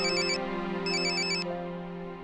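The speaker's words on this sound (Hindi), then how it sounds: "मुझे ना वार्डन का फोन आ रहा है" A mobile phone rings for an incoming call, two bright electronic ringtone bursts over a steady tonal backing, close and clear with no talking.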